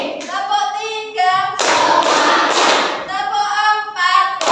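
A classroom clapping game in which children chant counted calls aloud and answer with bursts of loud, quick hand claps. The clapping stretches between the sung voices in a call-and-response rhythm.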